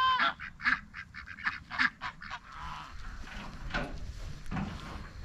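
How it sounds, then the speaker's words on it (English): Duck calling on a farm, a run of five or six loud, nasal honking quacks in quick succession, followed by softer, rougher squawks and rustling. "Oh, there's her other duck."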